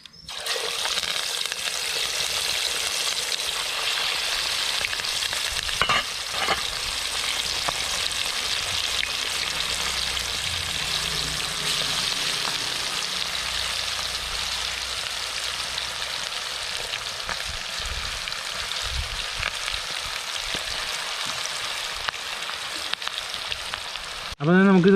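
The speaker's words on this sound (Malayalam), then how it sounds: "അപ്പോൾ നമ്മൾ ചിക്കൻ നമ്മൾ വെളിച്ചെണ്ണയ്ക്ക് ഇടാൻ പോവാണ്." Chicken pieces fry in coconut oil with a constant, loud, crackling sizzle lasting the whole stretch, broken by a few soft clinks and stirring noises, with a sharper burst at the very end.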